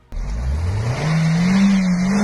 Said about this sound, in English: his car then got stuck in the snow as he tried to escape